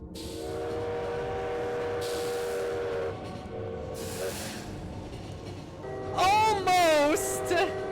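A train in the video game Lobotomy Corporation rolls by with a long sustained horn tone, then a sharp wavering whistle near the end, loud and close, while a person talks.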